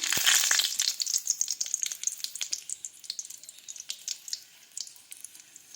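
Dry red chillies sizzle and crackle in hot oil while Odia dalma is made, a bright burst of frying at first that settles into irregular spitting pops, close and fairly quiet.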